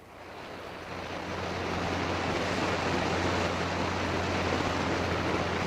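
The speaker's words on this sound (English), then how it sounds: "the other sounds of the monsoon rain pouring down" Dense, steady roar of heavy monsoon rain pouring down in Vietnam, swelling in the first second and then holding constant with a low hum beneath.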